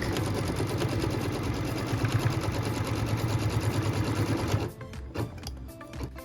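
An embroidery machine stitching to tack down fabric pieces for a quilt block, a rapid steady mechanical chatter of needle strokes close by that stops abruptly after about four and a half seconds, followed by a few light clicks.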